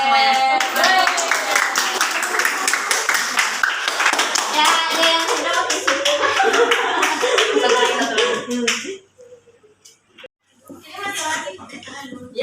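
A class of students claps together, a loud, dense burst of applause lasting several seconds before breaking off into scattered voices and a teacher talking.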